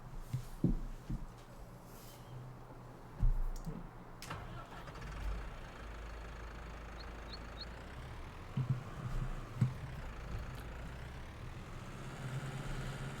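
A tractor engine in Farming Simulator 19 cranks and catches, then settles into a low, even idle rumble after a few scattered clunks, fairly close and with no talking.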